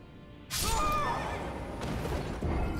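A horse in the video game Elden Ring gives a single loud whinny that trails off, followed by some background rustling and clatter.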